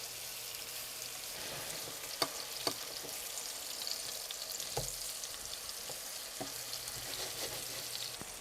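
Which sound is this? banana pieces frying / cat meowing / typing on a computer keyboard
banana pieces frying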